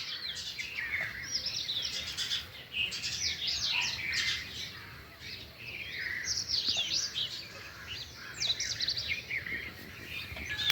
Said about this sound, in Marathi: चला सकाळ झाली. पक्षी उठले.